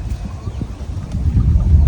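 Small wooden rowboat being rowed along a village river, with a steady low rumble of water and wind near the hull, dull knocks, and a faint gurgle building toward the end.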